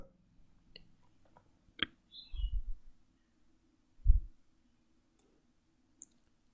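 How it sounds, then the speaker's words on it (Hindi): Computer mouse clicking a search button on a web form: a handful of quiet, separate clicks spread across a few seconds with soft thumps in between, no talking. "यहाँ पर सर्च पर क्लिक करवा"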